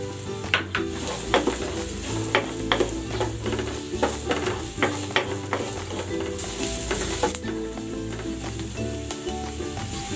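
Onion and ginger frying and being stirred in a pan, a bright steady sizzle punctuated by rhythmic scrapes and clicks of the spatula, close up with no talking.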